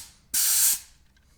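An Airmoto portable tire inflator deflates a tire with a sudden loud hiss of escaping air. The burst is close and lasts under half a second, then cuts off sharply into quiet.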